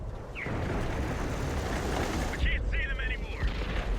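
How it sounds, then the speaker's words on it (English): An artillery shell explodes near a tank in World of Tanks on Xbox 360, a loud, rumbling low-frequency blast that builds and rolls on under continuous engine and battle noise, with brief whistling tones later. "Artillery shell just missed my tank."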